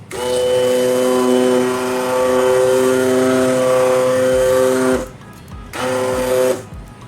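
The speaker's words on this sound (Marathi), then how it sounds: "आता मी इथे यात ब्लेंडर फिरवून घेतला आहे" A loud, steady electric hand blender motor whirs continuously while churning butter, drops out briefly, then runs again for a second burst before cutting off, close up with no talk.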